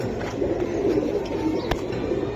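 Silver giribaz pigeons cooing in a low, steady murmur with soft repeated coos, plus a brief sharp sound near the end.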